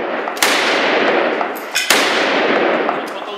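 Two loud gunshots at a shooting practice ring out about a second and a half apart, each sharp crack followed by a long, echoing roar of noise.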